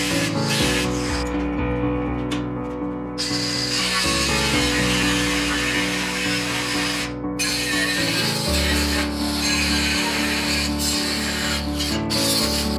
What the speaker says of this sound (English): Now I use my angle grinder with a cutoff wheel to cut the body from the metal.